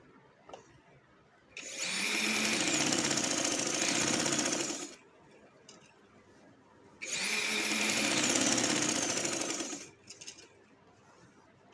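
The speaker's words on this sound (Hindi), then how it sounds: "अब इसके किनारे पे जो है ये दोनों साइड में सिलाई लगाऊंगी" A sewing machine stitches along both side edges of a black trouser, running in two steady, close bursts of about three seconds each, separated by a short quiet pause.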